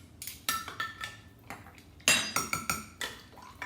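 Beef and broccoli stir fry with oyster sauce is stirred in a pan, a spatula or spoon clinking and scraping against the metal in a quick series of sharp, close knocks.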